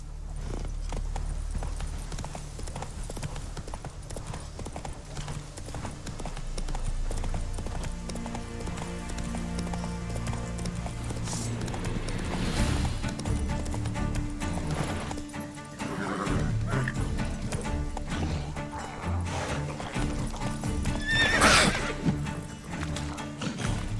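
A horse gallops in The Witcher 3 Next Gen, with rapid hoof clip-clops running throughout and several loud neighs and whinnies breaking through near the end.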